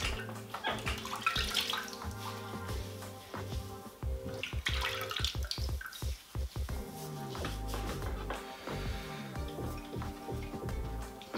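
Water running and splashing while a long full beard is wetted before a straight razor shave, a continuous close rushing with gurgles and splashy bursts midway, no speech.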